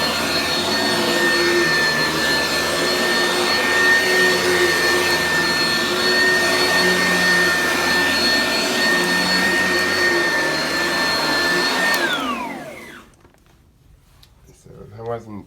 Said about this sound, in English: I can also plug my vacuum cleaner into the outlet in the bathroom here. And so I will just vacuum myself out the door.